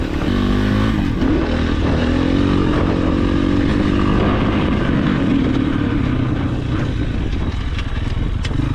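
A motorcycle ridden through a corner, its engine loud and droning close by as the pitch rises and falls steadily, with wind rush over it.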